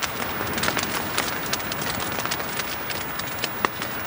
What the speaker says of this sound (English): Right now that's the sound of pine needles coming down on the tent.